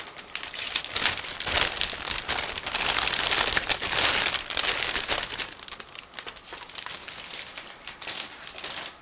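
Continuous crinkling and rustling of plastic close up, as the parts bag of an ICM 1/35 scale model truck kit is handled and pulled open for several seconds, with no talking.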